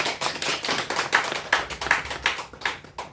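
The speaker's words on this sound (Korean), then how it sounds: "우리 박수해 주세요" A church congregation claps for a young member coming up to share after a CCC summer retreat, a steady run of sharp, fairly close hand claps with regular peaks across the whole stretch, no voices over it.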